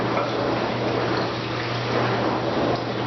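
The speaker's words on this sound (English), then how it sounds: "I'm just going to put all of our chicken here in the crock pot, and then I'm just going to take water to cover." Water pours over chicken in a crock pot, a steady dense splashing stream that runs evenly throughout, close and fairly loud with a faint low hum beneath and no talking.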